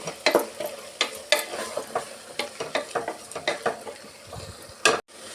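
Spice masala frying in oil for a vegetable pulao is stirred in a pan, with rhythmic scraping strokes roughly every half second over a soft, continuous sizzle, ending with a brief clunk.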